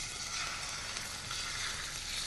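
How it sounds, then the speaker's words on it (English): Steady, loud sizzling of an unseasoned sirloin steak searing in a hot frying pan, a continuous crackling hiss with no pauses. "make sure it gets all the way on the frying pan so it sears perfectly."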